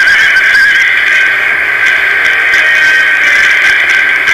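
Several horses whinny and neigh continuously in a dense, loud chorus over a steady background din, with no pauses, in the video game Empire: Total War.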